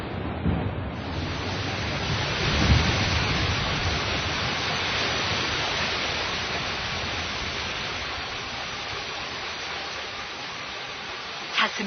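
Heavy rain pours down in a dense, steady hiss that fills the whole stretch, loud and continuous with only slight swells.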